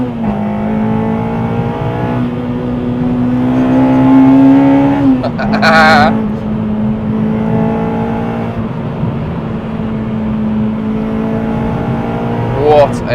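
Honda Civic Type R EP3 accelerating hard on a favourite winding road, steady engine drone rising in pitch with a brief gear-change dip and a loud burst around the middle, heard close from inside the car.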